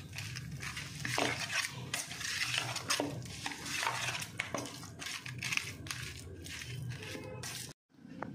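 A spoon stirs salt through a chicken fried rice mixture in a pan, giving close, repeated scraping and clinking strokes with soft squishy rustles, ending in a brief pause.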